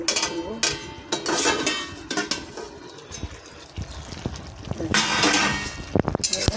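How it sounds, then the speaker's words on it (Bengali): Metal lid lifted off a cooking pot on a gas stove while prawn and okra-potato curry simmers, with sharp clanks and rattles at the start and end over bubbling and kitchen clatter. "ঢাকনাটা খুলবো"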